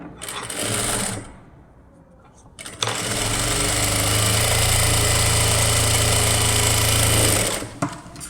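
A sewing machine stitches lining cloth into a blouse with a steady, loud mechanical whir lasting several seconds, after a shorter earlier run and a quiet gap, with faint talk in the background.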